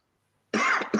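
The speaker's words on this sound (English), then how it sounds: "Where the cough coming from?" One person coughs in a short, sharp burst of two quick coughs out of silence, close to the microphone.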